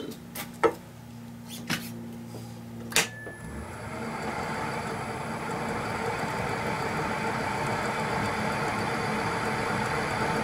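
A wood lathe spins up a camphor laurel blank at 500 RPM: a few sharp knocks come first, then the motor settles into a steady whirring hum with a faint high whine.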